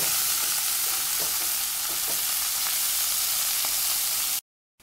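Garlic and mushrooms fry in a pan for a beef patty steak gravy, with a loud, steady hiss of sizzling broken by scattered scraping stirs, before cutting abruptly to silence.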